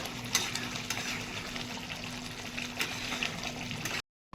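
Katla fish kalia gravy with garam masala bubbles and sizzles steadily in a pan, a close, continuous simmer with small pops, cut off abruptly near the end.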